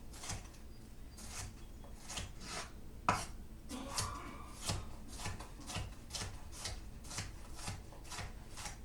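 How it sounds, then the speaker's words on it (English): Quiet, regular knife strokes thinly slicing peppers on a cutting board, a steady rhythm of light chops repeating every half second or so. "I'm just chopping up these peppers real thin"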